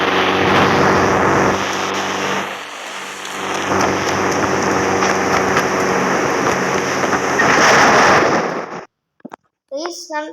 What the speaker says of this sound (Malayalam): നല്ല ഇടിമിന്നലും മഴയൊക്കെയാണ്.